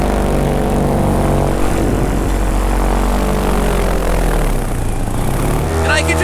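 A paramotor engine running at full throttle gives a loud, steady propeller drone with strong harmonic buzz. It holds constant almost the whole time and dips slightly near the end.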